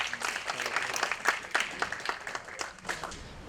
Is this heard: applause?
yes